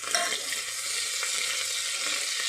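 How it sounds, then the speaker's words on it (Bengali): Cumin, poppy seed, mustard and coriander frying with ginger in a pan, a steady close sizzle with faint stirring scrapes throughout, no talking. "ভেজে নেবো ভালো করে"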